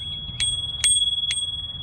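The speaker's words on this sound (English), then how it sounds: "The next one is the bell." The bell on an Ariel Rider Grizzly V2 electric bike rings three bright, close dings at an even pace, each leaving a sustained ringing tone, with no talk over it.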